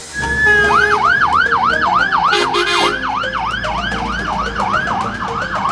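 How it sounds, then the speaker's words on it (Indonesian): A toy red fire truck sounds a loud electronic wailing siren, rapid repeating rising-and-falling sweeps running steadily throughout at close range, with no talk over it. "Wih, kalau ini mobil pemadam kebakaran teman-teman."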